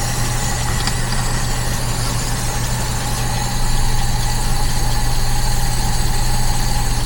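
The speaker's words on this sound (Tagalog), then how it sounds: "So ayan, tahimik yung makina." The engine of a 28-year-old van, already warmed up, idles with a steady low drone and light ticking, heard close; the tone swells slightly louder partway through and then holds steady.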